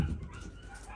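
Dogs barking and whimpering somewhere in a home, a faint, unsteady mix of yips and low barks under a quiet room.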